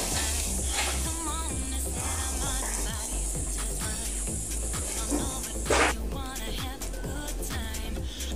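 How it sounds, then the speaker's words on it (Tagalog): Garlic sautéing in a hot pan for a chicken salad, a continuous loud sizzle with scraping stir strokes and a brief burst of crackle partway through. "isutay lang natin ang garlic hanggang mag golden brown or maglabas ang kanyang napakabangong amoy"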